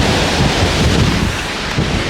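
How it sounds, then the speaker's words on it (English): Strong wind roars steadily past a DIY construction site with a greenhouse, a loud, dense, gusting rush buffeting the microphone throughout. "The wind is going crazy this morning. It's going very strong."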